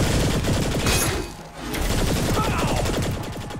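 Rapid bursts of heavy cannon fire in Saints Row: The Third, dense repeated blasts with a brief lull midway before firing resumes.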